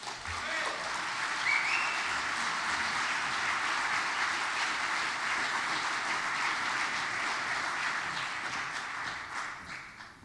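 Steady audience applause welcoming a speaker at a presentation, a sustained wash of many hands clapping at moderate distance that holds evenly for about ten seconds before tapering off.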